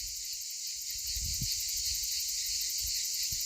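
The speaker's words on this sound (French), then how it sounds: "Cigales et grillons, il y en a beaucoup là." Dense cicadas and crickets on a hot day fill the air with a steady, loud, continuous high shrill, with occasional soft low thumps underneath and no talking.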